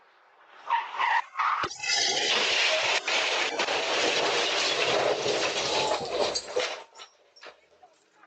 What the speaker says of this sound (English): the moment an SUV fleeing from police slams into this truck on the north side of Syracuse last night